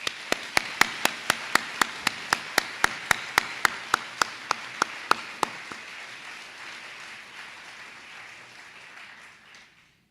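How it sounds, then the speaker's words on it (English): Audience applause for graduating high school students at a diploma ceremony, with sharp, evenly spaced unison claps over a bed of crowd clapping that thins and fades out after about five seconds. "let's give them a big round of applause"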